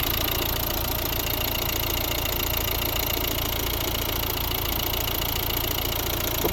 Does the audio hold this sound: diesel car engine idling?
yes